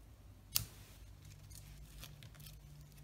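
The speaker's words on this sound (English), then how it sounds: "And just trim off those ends." Scissors trim the ribbon ends on a handmade card kit: a single crisp snip near the start, then quiet soft handling rustles in a still room.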